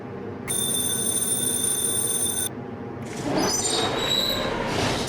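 Tram in a video game rolling along its tracks into an underground stop, with a steady rumbling run and high metallic ringing tones, loud and close, no voices.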